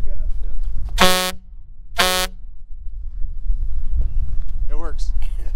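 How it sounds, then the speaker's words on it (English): Two loud, sharp blasts from the air horn of a 1997 Kenworth T800 semi truck with a CAT 3406E engine, about a second apart, with wind noise and faint voices afterward. "Test the air horn. Yeah. Alright. Little air horn test. Here goes."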